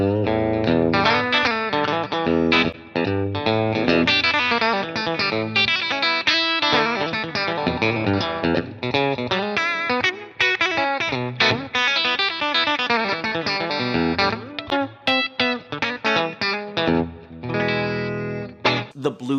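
Telecaster electric guitar with a classic pickup set playing a driven, distorted riff with chords and single notes, loud and continuous, with no voice over it.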